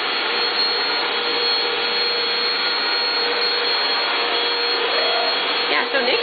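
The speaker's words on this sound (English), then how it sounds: "I have to finish vacuuming" A household vacuum cleaner runs steadily indoors, a loud continuous motor whine and airflow roar holding for the whole stretch with slight shifts near the end as it moves.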